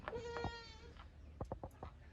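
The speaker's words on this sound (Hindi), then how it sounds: "ये बकरी बैठी हुई है" Goats bleating on a goat farm where a disease is spreading through the herd: one long wavering bleat from a nearby animal, then a quick run of shorter cries toward the end, with no talk.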